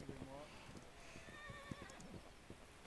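Horse neighing in a video game, a short whinny with hoof clip-clops, faint and layered under quiet talk.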